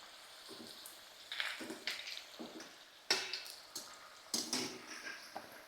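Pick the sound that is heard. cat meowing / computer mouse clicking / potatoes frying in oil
potatoes frying in oil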